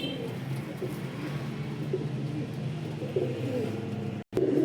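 Pigeons of a high-flying breed coo in a loft, a steady, low, burbling murmur that carries on throughout, broken by one brief dropout near the end.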